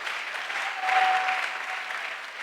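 A church congregation applauds to acclaim the Lord, with steady, dense clapping from a large crowd that swells slightly midway and continues throughout.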